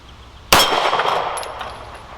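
A single loud, sharp metallic clang as a 115-grain pistol round from a Kimber KDS9c strikes a steel target plate at the range, then a bright ringing tone that slowly fades.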